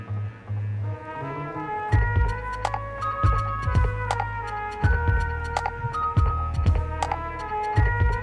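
An electric hair clipper fitted with a number 2 guard hums steadily while cutting hair up the side of the head for a fade, its buzz pulsing and stuttering as it passes through the hair, close and loud with no talking.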